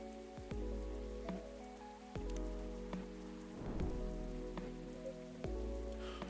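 Steady rain pattering in a video game, a dense continuous patter with a low rumble beneath and occasional sharper drips, with no one talking.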